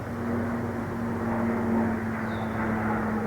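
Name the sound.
airplane flying overhead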